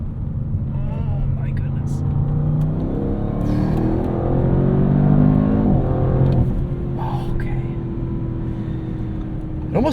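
A 2024 Audi RS7 Performance with a twin-turbo V8 pulls hard out of a corner in third gear, its loud, steady engine roar rising and swelling from inside the car, with a voice talking over it.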